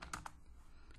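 Quick run of computer keyboard keystrokes as a telnet command is entered, a few close, crisp clicks at the start, then quieter taps over a faint background.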